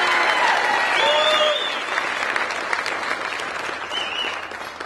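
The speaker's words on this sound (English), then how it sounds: "can we please have a huge round of applause for all those people that made this possible?" A crowd at an evening cycling team presentation claps loudly and steadily, with whoops and whistles rising over the applause early on, before it eases slightly but carries on throughout.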